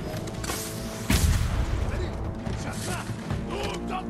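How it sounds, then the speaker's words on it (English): Cannon fire in the video game Ghost of Tsushima, one heavy boom followed by a crashing, rumbling tail amid other game noise, with people talking over it. "You got a cannon!"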